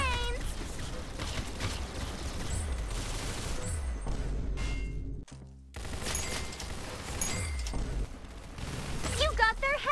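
Rapid bursts of gunfire from the Roblox game Arsenal crackle through most of the stretch, dense and loud. A brief gap falls near the middle, and game sound effects and voices are mixed in.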